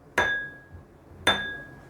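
Two clear strikes on an empty glass bowl, each producing a bright ringing tone that lingers and slowly fades.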